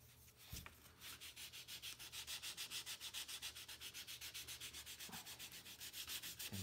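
A fine sander works over a 12-inch balsa wood glider, making a soft, rhythmic back-and-forth rasp of quick even strokes, faint and close, with a couple of small knocks and no voices.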